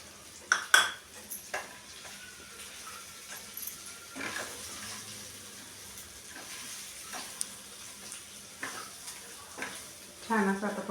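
Bitter gourd curry with masala sautés in a pan, with a low sizzle broken by sharp clinks and scrapes of a spoon against the metal pan, and a voice speaking briefly.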